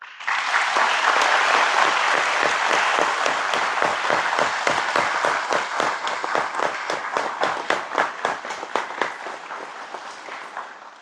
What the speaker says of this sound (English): Let's give them a round of applause for their extraordinary work and commitment.